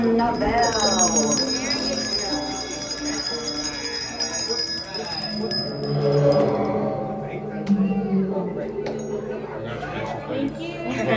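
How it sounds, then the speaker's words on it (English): A bell rings aboard the Disney Destiny cruise ship during an Easter sailing, its bright tone ringing out over steady crowd chatter and background music in a busy, echoing space. "give us a hint by ringing a bell"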